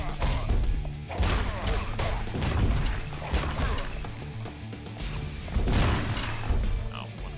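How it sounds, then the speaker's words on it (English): Rockets exploding in the video game Mr. Shifty, a series of loud crashing blasts and thuds with mechanical clatter, several impacts spaced over a few seconds, up close and prominent. "Someone's launching rockets."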